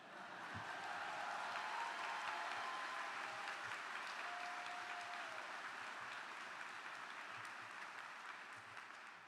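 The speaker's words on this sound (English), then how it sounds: "So this is when you're supposed to applaud" Commencement audience at a dental school graduation applauds in a faint, steady, distant wash of clapping that holds for several seconds, with a few soft tones and murmurs beneath.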